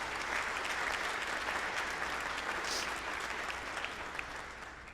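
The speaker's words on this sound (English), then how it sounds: "so can we please give Bob Tozier a round of applause?" Sustained audience applause at a school spring band concert, a dense even wash of many hands clapping that carries through and tapers slightly toward the end.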